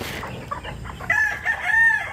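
Chickens cluck and a rooster gives short crowing calls, loud and close, with farmyard noise behind.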